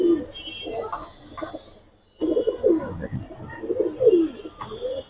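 Giribaz and colouring pigeons coo in soft, throaty repeated phrases at close range, several birds overlapping, with a short pause midway and faint background noise.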